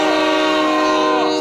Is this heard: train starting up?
yes